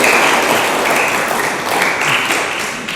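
Applause from a church congregation for the children during a Sunday Mass, a steady dense clapping that stays loud throughout and fades slightly at the end.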